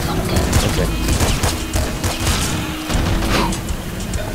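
Shotgun blasts in the game Nuclear Throne come in rapid, loud bursts, several booming shots in quick succession with clattering game effects around them.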